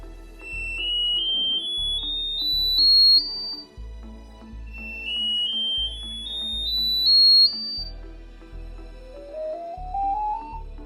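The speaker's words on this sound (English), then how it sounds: "your iPhone will start beeping and making different sounds" Electronic test tones from an iPhone in diagnostics mode on iOS 26, testing its speakers: rising stepped beeps and sweeping pitches over pulsing low tones, repeating in a regular, synthetic pattern.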